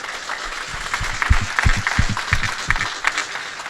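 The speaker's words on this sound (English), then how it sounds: "How about we thank them with a nice round of applause?" An audience at a panel discussion on responsible gemstone supply chains claps for the panelists, a fairly light, scattered round of applause with irregular individual claps throughout.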